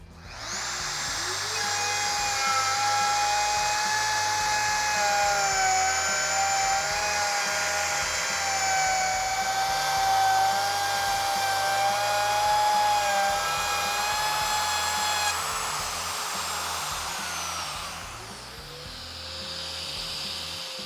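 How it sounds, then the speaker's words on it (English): A router cuts a dado in a cabinet panel, a loud high-pitched whine holding steady for about fifteen seconds before winding down, with faint low machine rumble underneath. "Once I turn the router on, I'll put my other hand here"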